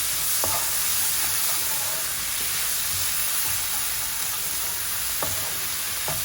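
Mushrooms with a tablespoon of double cream and chili powder stirred in a hot pan, giving a steady sizzle and hiss with a few soft spoon scrapes and taps against the pan, fairly close and without talk.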